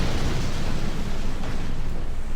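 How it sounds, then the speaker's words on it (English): Nuclear explosions in the video game C&C Shockwave roar as a loud, continuous low rumble of blast noise that fills the whole stretch without letting up. "that was probably nuclear explosions doing the killing there"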